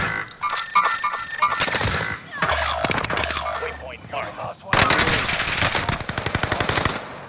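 Automatic gunfire in the Call of Duty Warzone video game on Rebirth Island, rapid bursts of machine-gun fire with short pauses, loud and close, a long sustained burst near the end, voices heard briefly.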